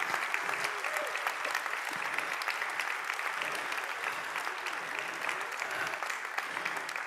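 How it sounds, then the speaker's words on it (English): A plenary audience at an anti-corruption conference claps steadily for a birthday, a continuous fairly distant patter of many hands holding an even level without pause. "So what we will do is we will clap and do a big congratulations to Mr. Ruben Lifuka."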